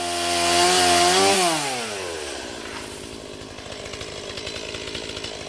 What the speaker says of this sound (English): a well-maintained chainsaw